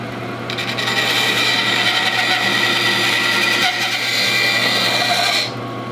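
Filing the buttstock spacer on a Winchester Model 54 rifle, a continuous close rasping scrape of metal across the stock that runs loud and steady for several seconds before stopping abruptly near the end.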